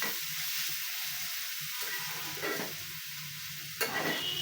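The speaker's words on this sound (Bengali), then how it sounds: "এই চুলাটায় বড়াটা ভাজা" Bora fritters frying in mustard oil on a home stove give a steady, close sizzle throughout, with a couple of brief stirring scrapes near the middle and end, and no talk.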